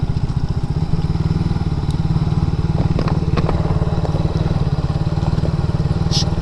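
A motorcycle engine putters close by with a steady, rapid low thrum that holds throughout, with scattered light clatter over it.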